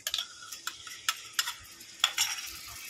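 Egg masala with tomato paste is sautéed and stirred, with a spoon giving quiet, irregular scraping taps and clicks over a faint low sizzle.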